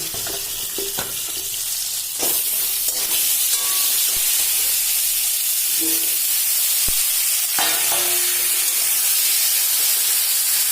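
Pumpkin pieces dropped into a hot pan for a sweet pumpkin and chickpea dal dish, giving a steady loud sizzle and hiss with a few stirring clinks, no voices.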